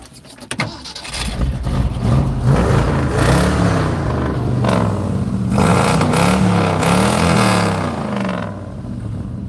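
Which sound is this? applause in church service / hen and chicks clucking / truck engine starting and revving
truck engine starting and revving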